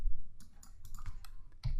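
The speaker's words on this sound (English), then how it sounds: "we're going to type in mvnv" Quick clicks on a computer keyboard as a command is typed, a short close burst of keystrokes at an even pace, with no voice.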